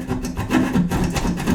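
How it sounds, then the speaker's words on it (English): A hand keyhole saw cuts through plaster around a damaged wall patch, giving quick, close rasping strokes in a steady back-and-forth rhythm. "for tight corners like this, sometimes you have to use a keyhole saw"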